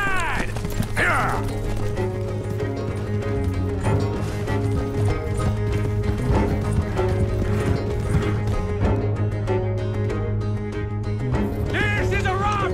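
Galloping horses during a coach robbery in Red Dead Redemption 2, a steady fast clip-clop of hooves under loud game music and harness noise, with a neigh near the start.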